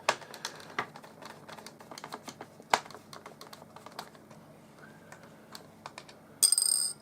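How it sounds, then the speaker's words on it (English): Small flange screws come out of a Nikko Sea Star toy submarine with rapid, close, light plastic clicks and ticks from the screwdriver. A brief brighter clatter lands near the end. "Now we're going to take off these 4 small flange screws."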